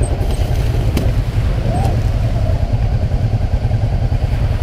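A Honda Africa Twin motorcycle rides on beach sand by the sea in Iceland, its engine a loud, steady, close drone with constant low rumble throughout.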